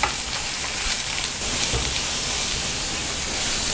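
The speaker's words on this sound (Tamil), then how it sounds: "வெங்காயத்தை நல்லா வதக்கிட்டோம்" Chopped onions sautéing in hot oil with popped mustard seeds and asafoetida for Tamil brinjal thokku, giving a loud, dense, steady sizzle and crackle that fills the whole stretch with no talking.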